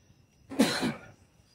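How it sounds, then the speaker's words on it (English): A single short, sharp sneeze-like burst, close and fairly loud, rising suddenly and fading within about half a second, with quiet room tone before and after. "Sneeze, excuse me."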